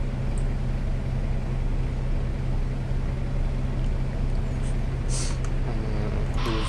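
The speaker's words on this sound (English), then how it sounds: "let's start the engine." A diesel engine on an ADL Enviro400 double-decker bus, simulated in the OMSI 2 driving game, idles with a steady low rumble and hum, loud and continuous, with a few brief hisses near the end.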